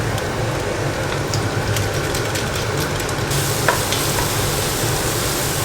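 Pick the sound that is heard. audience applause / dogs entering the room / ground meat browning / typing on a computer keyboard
ground meat browning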